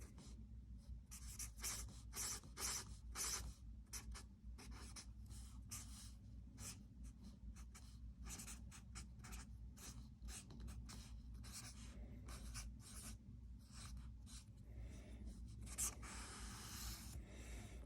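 A pen writes on paper in steady, close scratchy strokes with short pauses between them for about eighteen seconds, with no talking.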